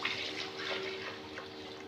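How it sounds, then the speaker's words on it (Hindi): Yakhni broth made from a jug of water is poured into a pot of fried beef for pulao, a steady splashing gush of liquid with a brief surge midway, close and fairly loud. "अब मैंने जो 1 जग पानी डालकर यखनी बनाई थी, अब वो मैं इसमें ऐड करूँगी।"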